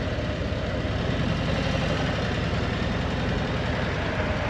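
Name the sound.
vehicle engine idling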